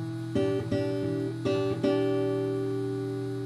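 A few guitar plucks in an uneven, syncopated rhythm, notes clustered in short bursts before one chord rings out and fades.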